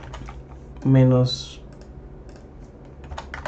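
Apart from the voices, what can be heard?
typing on a computer keyboard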